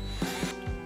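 A ratcheting screwdriver turns a screw with three short, distinct clicks spaced evenly over less than a second, close and fairly quiet against faint background noise.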